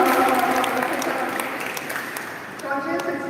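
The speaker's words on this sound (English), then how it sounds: "Please give him a round of applause." A seminar audience applauds Professor Sonjoy Saxena, steady clapping at moderate level that fades slightly before swelling again near the end.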